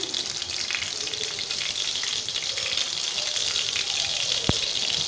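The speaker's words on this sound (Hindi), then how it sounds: "तो आपने बिल्कुल मीडियम लो फ्लेम पे आपने इसको फ्राई करना है।" Chicken shami kababs frying in oil on a medium-low flame, a steady, even hiss of sizzling with one sharp click near the end.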